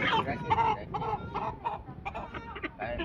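Chickens cluck repeatedly at close range in a farmyard before slaughter, a young black hen among them, the short fowl calls coming in bursts over a busy background.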